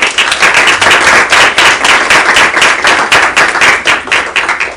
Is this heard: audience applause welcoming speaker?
yes